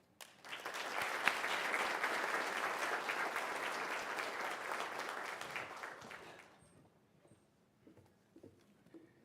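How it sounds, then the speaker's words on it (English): An audience at a North Carolina Principal of the Year ceremony gives school administrators a round of applause, a thick even wash of clapping for about six seconds that fades out into near silence with a few stray claps. "please join me in a round of applause for these outstanding administrators"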